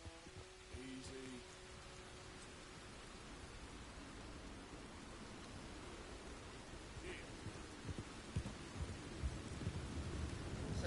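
Rain and thunder in Red Dead Redemption 2, a soft steady downpour with a low rumble, growing louder toward the end, and a few faint sounds at the start.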